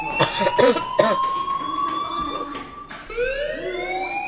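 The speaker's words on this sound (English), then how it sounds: "do you hear that fire alarm?" A loud electronic fire alarm tone in the video game Life Is Strange sounds continuously, wavering and then sweeping upward, with coughing and rustling underneath.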